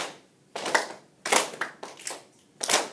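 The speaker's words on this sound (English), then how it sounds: "we're going to start with our snapping, clapping" A class of fifth graders snaps and claps together in a steady repeating pattern, sharp bright bursts of many hands landing in time with short pauses between groups, no talking.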